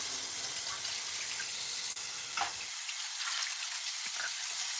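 Hot water running from a tap, a steady hissing stream throughout, fairly quiet, with a soft splash and the flow narrowing partway through.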